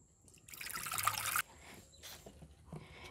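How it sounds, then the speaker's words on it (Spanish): Tap water splashes into a cooking pot, to be heated for a dish of green beans with ground beef; a bright, steady pour lasts about a second, then quieter kitchen sounds follow. "poner en la cazuela, echarle agua para que se caliente"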